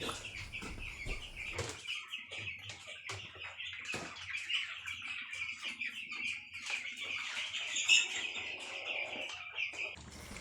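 Broiler chickens cluck and squawk repeatedly at a moderate distance, with scattered bird calls and occasional rustling in a busy compartmented poultry pen.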